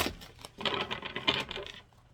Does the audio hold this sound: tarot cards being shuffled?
yes